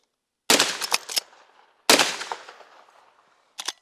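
Henry Big Boy lever-action rifle firing .38 Special cartridges outdoors, two loud sharp reports about 1.4 seconds apart, each with quick echoing tails, followed by a short metallic clack near the end.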